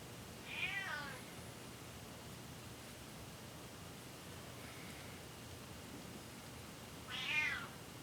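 A cat gives two short, faint meows several seconds apart in a quiet engine-rebuild workshop, with a steady hiss in between.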